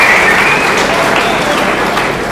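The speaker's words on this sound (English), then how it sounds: "Crowd loves the fight." A crowd at an MMA fight applauds loudly and continuously, a close, dense wash of clapping.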